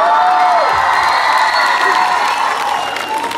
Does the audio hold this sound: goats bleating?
no